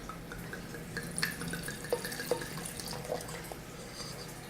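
Apothic Inferno red wine poured into a glass gives a faint, quiet trickle with a few soft drips and splashes, close by with no talk.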